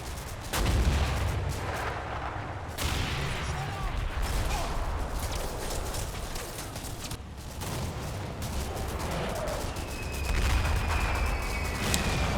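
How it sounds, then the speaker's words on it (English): German artillery fires around Grosshau in repeated heavy booms and crashes. The blasts are loud and spaced irregularly over a continuous rumbling background. "And right on time comes more German artillery."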